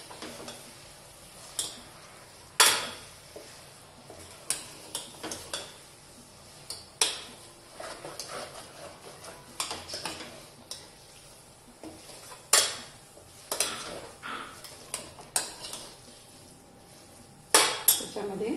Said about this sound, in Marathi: छान परतून घेऊया, मसाला सगळीकडे लागला पाहिजे त्याचा